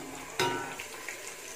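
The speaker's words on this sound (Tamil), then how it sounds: "சேர்த்துட்டு இதை இன்னும் ஒரு நிமிஷத்துக்கு நல்லா ஃப்ரை பண்ணிக்கணும் வெங்காயம்." Onions and green chillies fry in a pan for biryani, giving a steady quiet sizzle with a sharp stirring clatter near the start, close and alone without voices.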